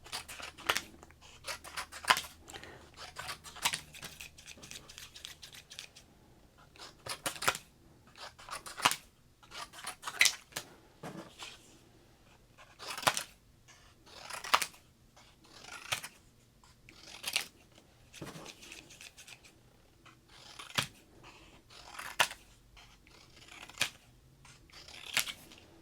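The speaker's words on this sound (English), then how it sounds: "I'm just cutting up these 1991 Donruss cards." Scissors snipping through 1991 Donruss basketball cards, a series of sharp close-up cuts at irregular intervals with quiet rustling pauses between, no speech.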